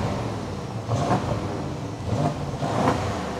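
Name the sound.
BMW 750i V8 twin turbo exhaust revving, muffler delete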